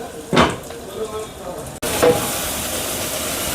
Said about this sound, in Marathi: या कढईमध्ये पॅनमध्ये आम्ही खिमा टाकला आहे